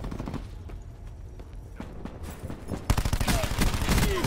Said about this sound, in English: And now we're on the new SMG.